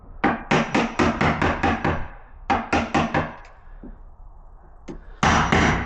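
A hammer strikes a chisel cutting a mortise for a BS deadlock in a door, giving rapid runs of sharp, loud wooden knocks in two bursts of about seven blows each, then a few scattered taps and a final heavier hit.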